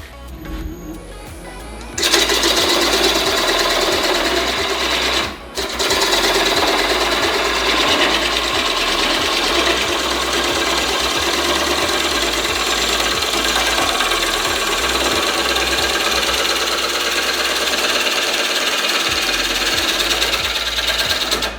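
Wood lathe turning the outside of a bowl, a continuous loud rumbling hum with gouge scraping and chattering against the spinning wood, close up, with a brief dip partway through and no talking.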